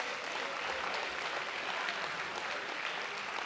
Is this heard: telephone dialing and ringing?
no